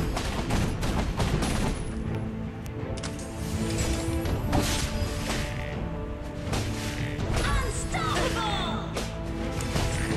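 Gunfire in the Heroes Evolved game: dense, loud rapid shots and impacts running continuously under game effects and voices.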